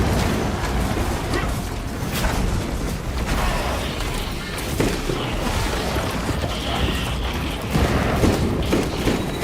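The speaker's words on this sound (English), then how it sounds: "Frag grenade out!" Frag grenade blast in Warhammer 40K: Space Marine 2 amid dense, loud battle noise, with booms and mechanical clatter sustained throughout.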